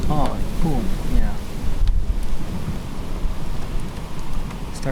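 Thunder from a lightning barrage of a stationary supercell near Dupree, South Dakota booms and rolls low under steady rain and wind buffeting the microphone, while a person speaks briefly early on.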